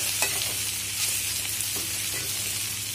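Coarsely crushed ginger and garlic sizzle in a pan with vegetables for an aloo parval curry, a steady close frying hiss with a few soft stirring knocks and no voices.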